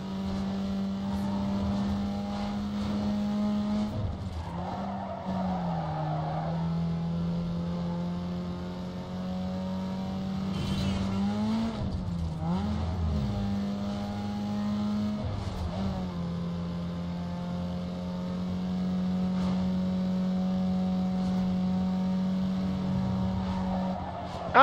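Racing car engine in Need for Speed Underground 2, a steady loud droning hum with pitch dips and rises through gear shifts and cornering, joined by brief tire squeals, continuous with no talk.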